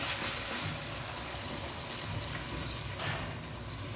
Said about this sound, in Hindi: हम लगाते हैं पानी